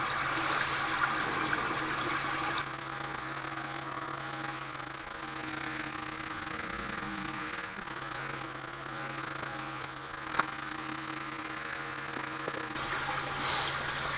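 Water steadily pours and trickles into a radial flow settler tank as it fills, a continuous close rushing wash with low hum and no talk.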